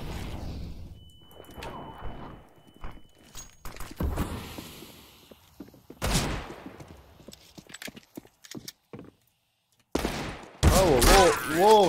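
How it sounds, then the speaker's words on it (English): A grenade blast and gunfire in the first-person shooter CS:GO, heard as sharp loud bursts scattered among quieter game sounds and brief pauses, with a heavy cluster of impacts near the end. "sam sebi sam bombu bacio. Volim čuti ovaj zvuk."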